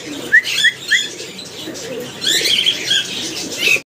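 Pigeons and cockatiels in cages at a bird market give short chirps and tweets with rustling and wing flutters, close by and intermittent, with busy background noise.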